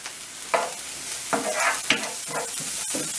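Chopped onions and peppers sizzle and crackle steadily in a hot pan with little oil, with several louder bursts as a utensil stirs and scrapes through them. No one speaks.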